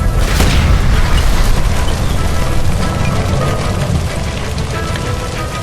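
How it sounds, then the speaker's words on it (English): A gas line exploding by a stove in the video game L.A. Noire, a loud booming blast at the start rolling into a sustained roaring rumble that slowly fades. "Look, by the stove! Shoot the gas line, Cole,"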